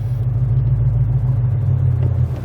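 A Ford Mustang GT S197 V8 with a manual transmission rumbles steadily at low revs, a loud, deep, even drone heard from inside the car with no talking.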